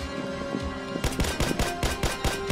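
Rapid automatic gunfire bursts out in the Roblox game Zombie Uprising, a loud fast string of shots that starts abruptly after a quieter stretch of game sound.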